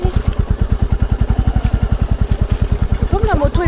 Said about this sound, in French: Comme la moto est beaucoup plus lourde qu'une 125.